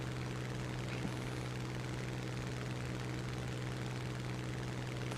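Steady drone of a fighter-bomber's engine held at military throttle in War Thunder, a constant loud hum with a strong low tone that carries on evenly throughout.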